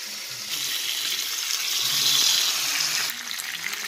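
Whole prawns, heads and shells on, fry in a pan with a bright, steady hiss and crackle, close and unbroken, easing slightly toward the end.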